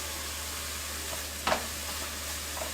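Minced garlic hits translucent cooked onions in a pan, giving a short, quiet burst of sizzle over a faint steady hiss.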